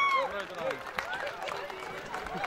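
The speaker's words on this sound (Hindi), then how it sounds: "एक बार जोरदार तालियां होंगी आपकी" Audience at a medical college alumni cultural evening clapping and cheering with scattered shouts and whistles, mixed under voices close by.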